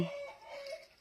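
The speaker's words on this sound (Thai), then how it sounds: "เสียงไก่ขัน" A rooster gives one short crow. It is faint and distant, a single drawn-out call lasting about a second and standing alone.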